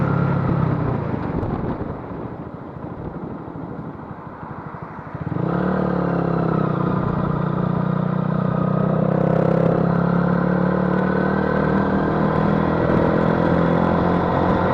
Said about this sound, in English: this exhaust don't sound too bad actually. It's louder than standard